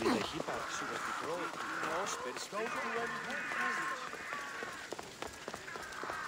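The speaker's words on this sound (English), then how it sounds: "There's a lot of birds making noises right now. A lot of birds." Several birds call and chirp in an outdoor scene in the video game Assassin's Creed Odyssey, with rising and falling calls that overlap throughout under steady game ambience.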